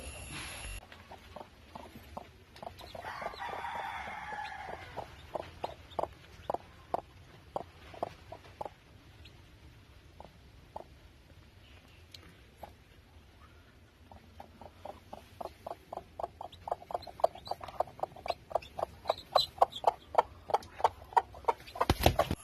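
Hens and newly hatched chicks in a poultry-rearing setting, with short, sharp peeps and clucks repeating in quick rhythmic runs, close and fairly clear, thinning in the middle and growing busier and louder toward the end.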